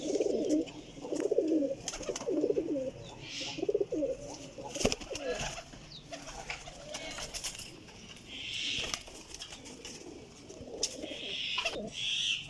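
Pigeons in a loft coo in low, repeated rolling calls, near and moderately loud, with fluttering and clatter around them and a few higher chirps later on.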